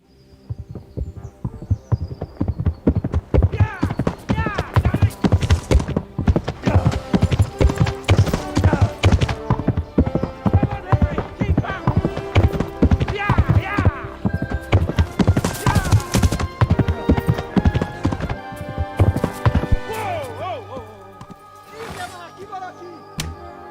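Rapid, rhythmic hoofbeats of a galloping horse pound loudly and continuously, with a whinny and game-like effects, before slowing near the end.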